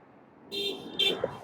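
A car horn sounds two short honks in quick succession, the second slightly louder, heard alone against quiet background noise.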